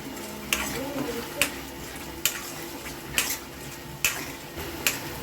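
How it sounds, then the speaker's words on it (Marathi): A spoon scrapes and knocks rhythmically against a pot while mixing rajma masala for dhaba-style Punjabi rajma, about six sharp clinks spaced roughly a second apart over a low steady background. "आता हे चांगलं मिक्स करून घ्यायचं"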